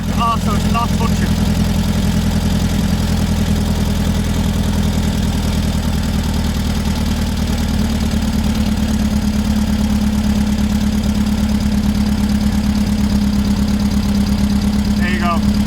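Air-cooled engine of a 1974 VW Beetle idling steadily with a low, even rumble and faint ticking, loud and close, while a person talks over it.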